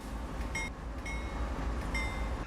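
A slow runaway train crawls along at about 1.2 mph in Train Sim World 5, giving a low steady rumble broken by a few brief metallic squeals and clanks.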